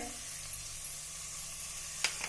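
Ginger-garlic paste and tomato sauté in a pan with a faint, steady sizzle, punctuated near the end by a couple of brief clinks or scrapes.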